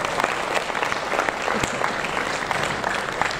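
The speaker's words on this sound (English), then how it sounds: "Can you give them another big round of applause?" Audience at a conference session on data analytics for content marketing gives a big round of applause, dense continuous clapping filling the room for a few seconds.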